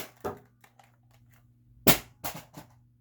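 A Nerf toy blaster fires, giving a sharp, loud pop near the two-second mark, followed by a couple of quicker mechanical clacks from the breech, with softer handling clicks earlier and a low steady hum underneath.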